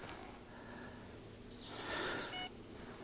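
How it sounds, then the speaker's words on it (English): Carp fishing bite alarm on the right-hand rod at a lake on a winter day, giving a short series of high electronic beeps around the two-second mark over faint outdoor ambience. "little beep on the right hand rod."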